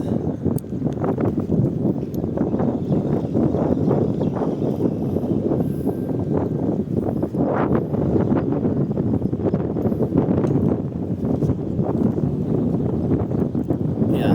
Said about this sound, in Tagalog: Medyo mahangin tsaka low tide.